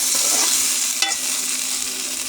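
Vegetables fry in hot oil for a hilsa fish curry with potato and plantain, giving a loud continuous sizzle as they are stirred, with one sharp scrape of the spoon midway.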